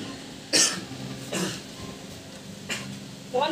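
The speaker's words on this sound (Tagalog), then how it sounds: "Mukhang lumalala na yung ubo mo ah." A person coughs in short separate bursts, several fits spaced across a few seconds in a quiet indoor room, each one sharp and close, with no talking.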